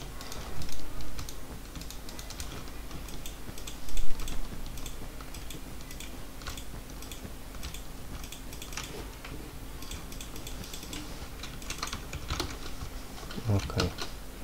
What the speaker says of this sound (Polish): Pewnie słyszycie, jak klikam szybko.